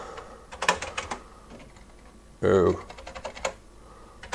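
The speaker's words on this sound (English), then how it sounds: "it's been a long time since I've really done any typing on one of these." Keys clatter on a Commodore C64 computer keyboard in irregular bursts of close, clicky strokes, with a short stretch of speech in the middle breaking up the typing.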